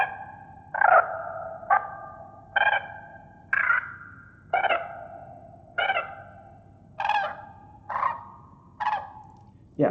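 Nine network-generated synthetic crane calls, brassy trumpeting honks spaced about a second apart, over a steady low rumble, slightly artificial in tone.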